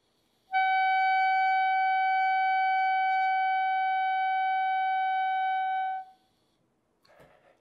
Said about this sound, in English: The goal on the mouthpiece and barrel is to have a sound like this.